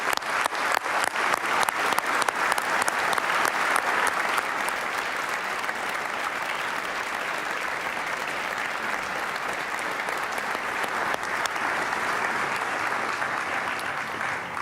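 A big audience applauds steadily for fourteen scholarship winners called to center stage at a scholarship awards ceremony, the dense clapping loud and sustained throughout.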